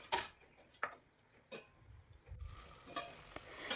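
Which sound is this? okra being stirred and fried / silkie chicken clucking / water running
okra being stirred and fried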